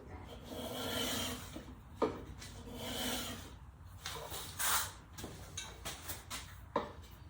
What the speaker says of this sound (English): I can hit it with a sander, you know, a